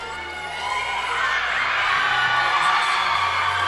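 Crowd cheering and whooping for the Lancers cheer squad at a Division II cheerleading championship, a broad sustained roar that swells after the first half second and holds steady, with scattered shouts above it.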